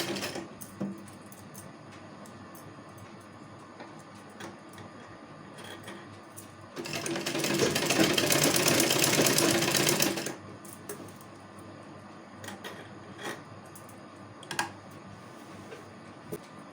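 A sewing machine stitches along a folded kurti lining in one steady, loud whirring run of about three seconds, set among quieter clicks and handling noises.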